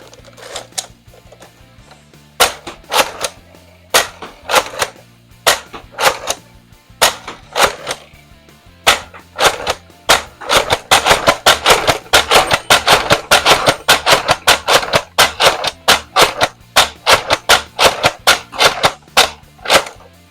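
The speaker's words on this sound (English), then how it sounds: "Now I'll show you it firing. Starting off with elite darts." A Nerf Deploy blaster fires elite darts close by: sharp clicks and snapping shots, single at first and then rapid bursts of dry plastic cracks, with a low hum underneath.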